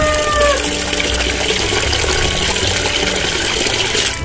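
Tap water pours into a container being filled to about two and a half litres for fermenting rice bran chicken feed, a loud, steady, continuous gush close to the mic.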